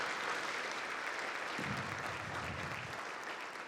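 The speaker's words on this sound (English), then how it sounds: "Let's give them a round of applause for being beautiful and diverse." Audience applause for scholars at a scholarship breakfast, a steady wash of many hands clapping together throughout, fairly even and sustained, with a few low voices murmuring beneath.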